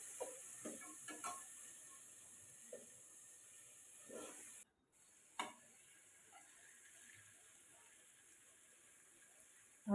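Chickpeas are added to hot tempering oil and stirred for a chana bataka nu shak, giving a faint soft sizzle with a few scattered scraping stirs, quiet and close.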